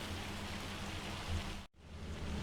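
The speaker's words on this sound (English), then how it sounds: "Might have to speed up time a little bit here and wait for the hail to finish" Hail falls in the Farming Simulator 25 game as a steady hiss of dense pattering on surfaces with a low hum underneath. It cuts out for an instant partway through, then resumes just as before, and nobody speaks.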